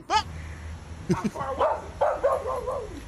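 A dog gives a few short, yelping barks and whimpery yips, fairly close, with people's voices and laughter mixed in around them.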